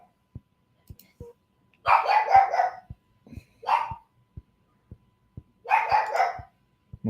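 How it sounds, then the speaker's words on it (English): A dog barks nearby in three short bursts of rapid barks, with steady faint ticks sounding between them. "My dog is trying to fill the time in for us all."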